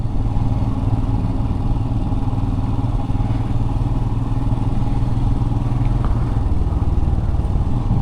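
A Royal Enfield Scram 411 motorcycle riding in third gear at about 20 mph, a steady loud low engine drone with rumbling exhaust and wind, alone and without talk.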